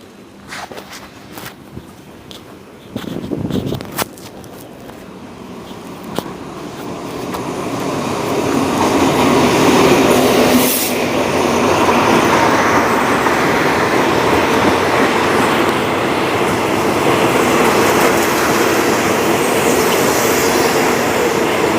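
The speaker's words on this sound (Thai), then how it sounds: "เรารอให้รถไฟผ่านแป๊บนึงก่อนนะครับรถไฟมาครับ" A train rumbles past close by, its roar building after a few quiet seconds and holding steady and loud to the end, with scattered footsteps early on.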